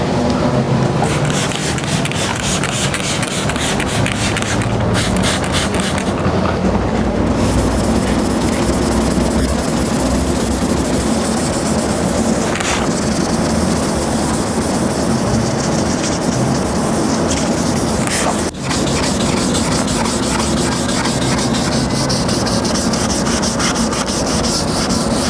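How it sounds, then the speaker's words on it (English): Wet sanding a heavily faded headlight lens with 1000 grit sandpaper, working against the earlier 800 grit direction: a steady, close, continuous scrubbing rasp that runs unbroken for the whole stretch with no talking. "now we're gonna sand in the opposite direction that we sanded with 800 grit"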